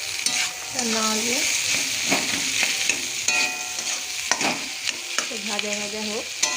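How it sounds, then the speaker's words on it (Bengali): Boiled potatoes with turmeric and chili powder fry in a pan for Bengali chana masala, sizzling steadily while a spoon repeatedly scrapes and stirs, close and fairly quiet with no talking. "ভাজা ভাজা হোক"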